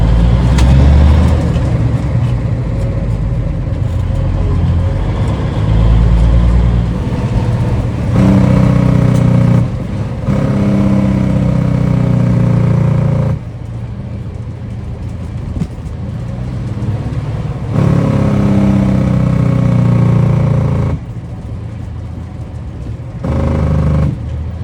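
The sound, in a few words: Smokey and the Bandit tribute truck driving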